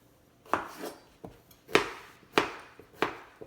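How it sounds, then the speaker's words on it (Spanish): A knife chops Mexican squash (calabacitas) on a board in about six crisp, separate strokes at an uneven pace, close and fairly quiet. "Voy a cortar las calabacitas, les voy a quitar esta parte de aquí y las voy a cortar"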